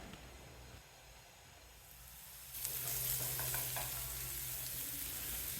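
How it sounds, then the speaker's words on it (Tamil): Pumpkin pieces sizzle while they are stirred and sautéed in a pan. A soft fry hiss swells louder partway through and then holds as a steady, close sizzle with no talking. "பரங்கிக்காய் நல்லா செவந்து வர்ற வரைக்கும் அடிக்கடி கிளறி விட்டு வதக்கணும்"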